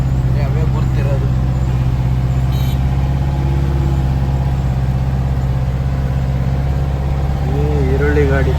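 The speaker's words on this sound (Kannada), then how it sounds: "ಈರುಳ್ಳಿ ಗಾಡಿ." An onion-laden truck passes on a road with a steady low engine rumble throughout, moderately loud and continuous, with people talking over it.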